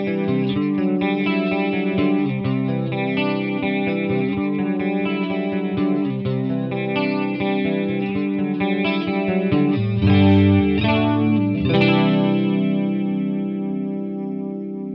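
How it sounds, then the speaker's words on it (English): A clean electric guitar on the middle pickup plays through a chorus effect, shimmering sustained chords and single notes ringing continuously and loudly with no talk. "we'll have a listen to how chorus can really make a clean sound"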